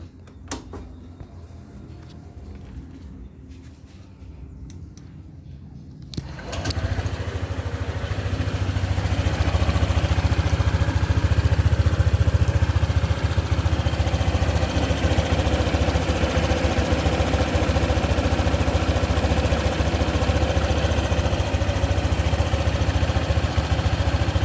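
A 2021 Honda ADV 150 ABS scooter engine with about 4,300 km, quiet background at first, then starting up and settling into a smooth, steady idle, close and loud with no odd noises.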